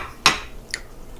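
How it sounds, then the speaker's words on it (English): Pork pieces for cracklins drop into a cast iron frying pan, a sharp close clatter followed by a second lighter knock, brief and without talk. "We're going to just put them in the frying pan here."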